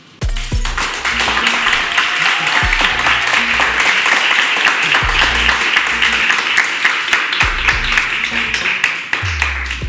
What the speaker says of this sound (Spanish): los aplausos siempre están, pero estos son más fuertes